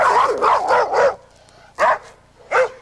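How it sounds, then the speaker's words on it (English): A female Weimaraner barks loudly and close by, a quick run of four or five sharp barks followed by two more single barks after a short pause. "this friendly-looking Weimaraner's bark is as vicious as her bite"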